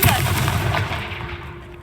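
A Confringo blasting spell in the Hogwarts Legacy video game: a loud, close burst that fades into a rumbling tail and dies out over about two seconds.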